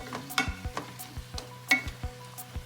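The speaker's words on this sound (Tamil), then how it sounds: "சிக்கன் அப்படி போட்டு இஞ்சி பூண்டில் வதக்கிட்டோம்" Chicken pieces fry in a pan with ginger and garlic for a white chicken biryani. A soft continuous sizzle runs under repeated scraping stirs and light clanks of the utensil against the pan.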